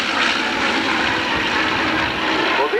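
A single-engine radial-engine fighter aircraft roars past at full power during an airshow, a loud, continuous, broadband engine drone that fills the whole stretch without a break.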